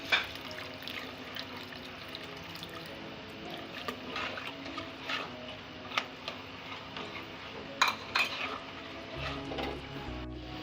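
A spoon stirs beef nihari in a pot over low heat. Faint wet sloshing runs throughout, with scattered soft clinks and scrapes, heard close and without talk.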